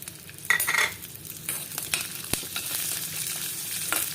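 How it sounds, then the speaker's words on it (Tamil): Black pepper, cumin and garlic roast in oil for pepper kuzhambu, sending up a steady crackling sizzle broken by a few clinks and scrapes of a stirring spoon, close up and with no voices. "அதில் அந்த மிளகு, சீரகம், பூண்டு 3ஐயும் நல்லா வறுத்துடலாம்"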